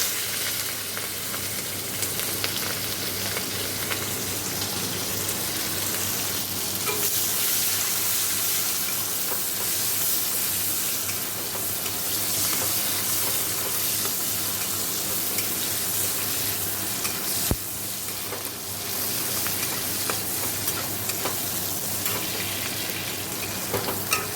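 Panch phoron and dried red chillies frying in hot oil, a steady bright sizzle running throughout with faint stirring and occasional clatter, no talking.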